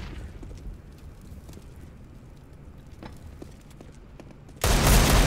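Gunfire in a CS:GO match: low, steady game ambience with faint scattered shots, then a sudden loud, dense burst of fire that carries on to the end.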